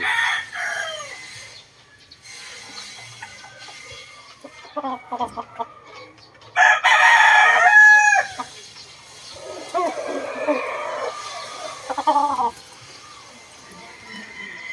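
A two-year-old Sweater gamefowl rooster crows loudly and close, with one long prominent crow mid-way and further clucks and shorter calls around it, while someone talks at intervals.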